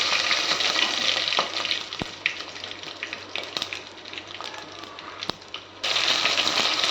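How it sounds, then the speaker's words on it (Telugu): Cumin, urad dal, chana dal and mustard seeds frying in hot oil for a tempering, a steady loud sizzle that softens midway before surging back, with a few sharp pops and no talking. "ఆయిల్ వేసుకొని జీలకర్ర, మినపప్పు, శనగపప్పు, ఆవాలు ఇవి 4 మిక్స్ చేసుకొని"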